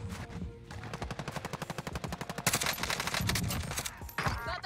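Rapid automatic gunfire in the video game Warzone, a fast, loud stream of repeated shots in bursts, with brief pauses and a final short burst near the end.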